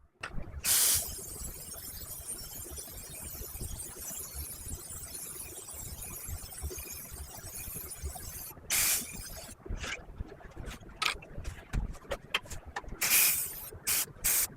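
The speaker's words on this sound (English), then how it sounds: "And now we're going to spray the other side." Spray paint hisses onto a wooden piece in short bursts, one early, then several quick sprays later, each a bright airy hiss over a quiet, rustling background.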